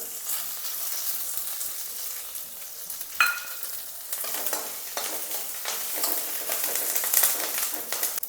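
Ginger and curry leaves fry in a pan with a steady, close sizzle, crackling through the whole stretch, with a sharp added pop partway through and some stirring scrapes.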